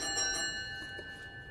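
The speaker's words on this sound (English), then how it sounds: "I'll just give the bell a second." Parliamentary division bell ringing in a committee room, a steady faint electric ring with sustained tones throughout, no talk over it.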